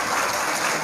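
An audience at a Hindu religious discourse, a Shri Ram Katha in a Shiv temple satsang hall, claps steadily; dense, loud, continuous applause without any speech.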